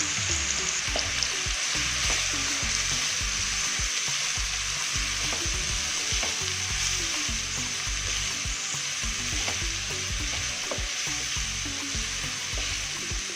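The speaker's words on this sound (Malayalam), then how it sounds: "ഉള്ളി ഇട്ട് കൊടുക്കാം." Onions frying in oil in a pan for onion rice, a steady close sizzle with stirring and occasional scraping, continuous and with no talk.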